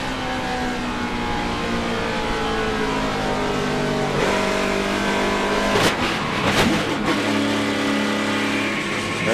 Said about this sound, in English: let's ride along with him and see what it sounds like.